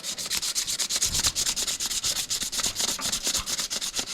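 High-grit sandpaper is rubbed over a titanium knife pocket clip in quick, even back-and-forth strokes. The rasping is close and rhythmic, with no voices.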